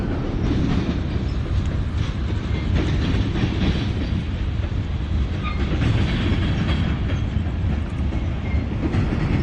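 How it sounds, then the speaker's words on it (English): A freight train rolls past on a remote line through the Mojave Desert between Arizona and Cadiz, California, a continuous low rumble with rhythmic clickety-clack of wheels on rail and occasional faint squeals. "This is the train that goes between Phoenix, Parker, Arizona, and Cadiz, California via the Mojave Desert"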